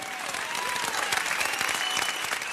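An audience in a 1930s movie theatre claps and cheers, a dense, continuous burst of applause with scattered whistles and shouts, fairly close and loud for its short length.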